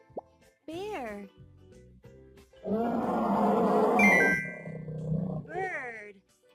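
A bear's roar, a loud sustained growling burst in a children's animal-sounds sequence, set between short animated voice calls before and after.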